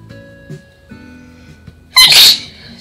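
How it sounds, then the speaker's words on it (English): A single loud, sharp sneeze bursts out near the end, following quiet background sounds and faint tones. "Yes, I sneezed funny."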